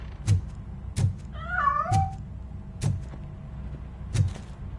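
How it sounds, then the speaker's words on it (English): A cat meows once in the video game RoboCop: Rogue City, a short rising-and-falling cry set against a low steady hum and several regular dull thuds. "That cat must be hiding inside."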